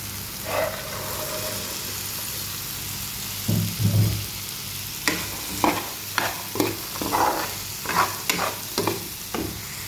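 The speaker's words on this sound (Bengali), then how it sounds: "এদিকে আমার মশলা হয়ে গেছে বেঁধে রাখা বুটগুলা দিব এখন" Soaked chickpeas stirred into a frying spice mix in a pan, loud close sizzling with a run of rhythmic scraping stir strokes through the second half.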